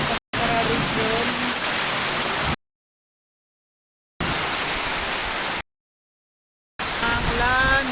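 Heavy rain and wind from Tropical Storm Tino making landfall, a dense steady roar of downpour heard in three bursts broken by silent gaps.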